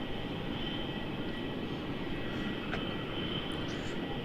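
A Jetstar A320 on flight JQ734 from Launceston, just landed at Melbourne Airport, heard as a steady, distant engine rumble and hiss with a faint high tone running through, no voices.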